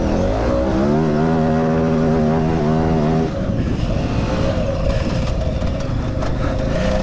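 A KTM 950 Super Enduro motorcycle engine pulls hard through the gears, a steady rising howl that drops at a shift and then builds again, loud and close with wind rush.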